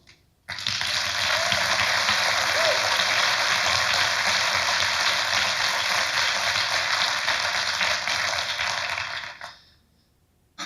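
A large audience claps in a dense, steady roar for several seconds at a games industry conference talk, then the applause quickly dies away. No voices.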